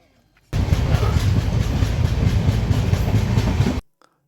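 A passenger train on the Kolkata to Alipurduar run rumbles and clatters loudly and steadily for about three seconds, cutting off abruptly.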